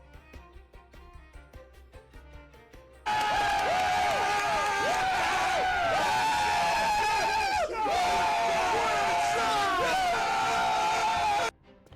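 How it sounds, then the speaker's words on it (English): A large crowd roars and cheers for performers taking the stage in a video game, the loud sustained crowd noise bursting in abruptly after quieter music and holding steady for several seconds before cutting off. "Everyone, a big round of applause to welcome the Rover and Miss Carlotta on stage!"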